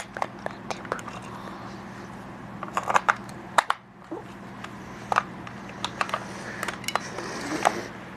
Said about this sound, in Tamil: பேட்டரி போட்டுட்டு மூடிட்டு